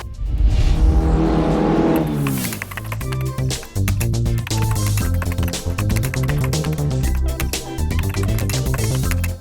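A Volvo car with a turbocharged engine pulls away while driving, the engine note rising smoothly under load and holding a loud, close, continuous drone with some rattly texture, and no one speaking.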